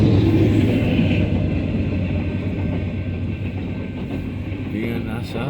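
A train engine rolls past on the line, loud and close, with a heavy rumble and rhythmic clickety-clack of wheels that gradually eases as it moves away, while people talk nearby.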